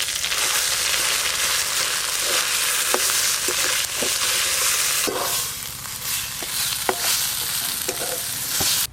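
Ground taro paste frying in a pan over black cumin seasoning, a steady loud sizzle with stirring scrapes and occasional sharp clicks of a spatula against the pan throughout.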